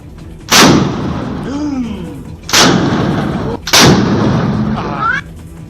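Gunshots fired into the air from a house rooftop at a birthday celebration: three loud, sharp blasts spaced about 1.5 seconds apart, each followed by a long booming echo that lingers and fades.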